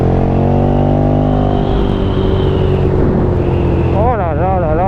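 A Ducati Streetfighter 1098 S of 160 hp runs on the road, its loud engine note rising and falling through gear changes under heavy wind rush, with a voice heard over it.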